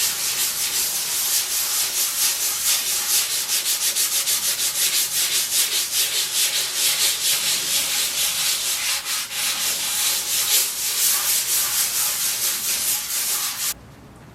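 High-grit sandpaper rubs across a canvas being prepared for oil painting, giving a close, steady rasping hiss in quick repeated strokes for about fourteen seconds before it stops abruptly.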